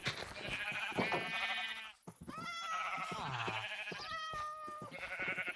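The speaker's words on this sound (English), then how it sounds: "I'll move in the pink sheep as well" Pink sheep in modded Minecraft survival bleat repeatedly and close by, wavering cries that follow one another with brief gaps between them.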